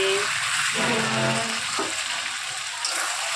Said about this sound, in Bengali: চলছে মটন কষানো